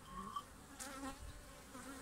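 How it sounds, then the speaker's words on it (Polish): A bee approaching a dish of Egyptian varroa treatment liquid at the hive gives a faint, steady insect buzz close by, with no talking. "pszczoła podchodzi, nieco pobiera płynu,"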